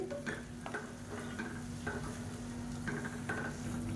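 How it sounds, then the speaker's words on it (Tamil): Water boils in a pot on a home kitchen stove for pidi kolukattai, giving a soft, continuous bubbling hiss with scattered light pops and faint clinks, quiet and with no talking. "இப்போ தண்ணி நல்லா கொதிக்குது"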